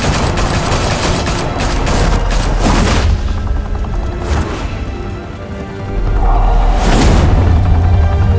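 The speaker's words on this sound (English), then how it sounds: "Open fire!" A volley of gunfire in Batman: The Telltale Series game, with dense rapid shots and booming blasts over a loud score that eases midway and then swells again, no speech heard.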